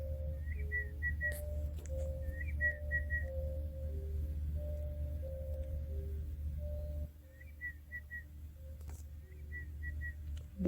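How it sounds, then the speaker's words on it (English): Short whistled phrases of three or four quick, high notes recur a few seconds apart, with lower sustained tones in between, over a steady low hum in a game setting, with no talking. "What is whistling?"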